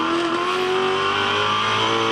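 A 1969 Chevrolet Camaro race car at the Sandown racetrack roars loudly and close, its engine note holding a strong, sustained tone with a slight rising pitch throughout.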